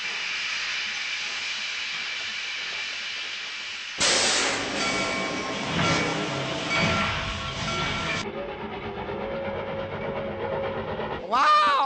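Steady hiss and rumble inside a moving train car in an anime, heard close, with the character changing abruptly partway through and a sharp screech near the end. Speech is faint or absent.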